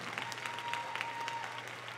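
Applause from a church congregation, a dense steady patter of many hands clapping together, loud and continuous with no talk over it.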